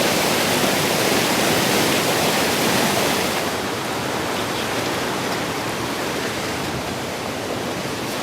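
A small waterfall in a ditch gives off a steady, loud rush of falling water, a dense broadband roar that softens slightly partway through, with no voices.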